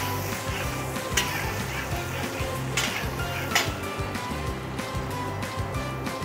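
Chopped onions sizzle and fry steadily in a pan while cooking mutton boti gojju, a dense continuous crackle punctuated by occasional sharper spatters and stirring clinks, close and loud with no talk.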